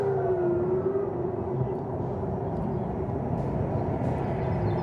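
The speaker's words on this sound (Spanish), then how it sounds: "Escuchen ustedes la forma como suena esa sirena que alerta a los civiles de que viene un ataque con drones o con misiles desde territorio iraní" Civil defense air-raid siren warning of an incoming drone or missile attack from Iran, a steady sustained wail holding over continuous broadband noise throughout, loud and unbroken.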